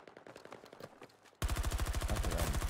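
Automatic gunfire from a Tommy Gun in Battlefield 2042, first a quieter rapid burst, then a sudden much louder, close, continuous stream of rapid shots.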